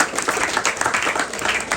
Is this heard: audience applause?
yes